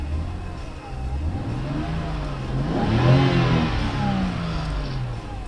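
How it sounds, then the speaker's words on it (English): A 2011 BMW 328i xDrive inline-six revs in place, its raspy exhaust climbing to a peak and easing back down, steady and close. "I'll rev it up a little bit for you."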